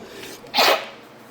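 One short, sharp human sneeze bursts out close by after a quiet pause, alone and without speech.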